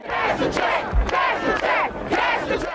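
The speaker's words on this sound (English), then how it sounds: "civil rights protesters demanding racial equality and welfare reform" Civil rights protesters in Chicago in 1996, demanding racial equality and welfare reform, shout together in a loud, dense crowd roar that swells in waves.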